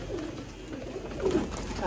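Pet racing pigeons kept by a hobbyist, low soft cooing rising briefly near the end over a steady murmur of background noise.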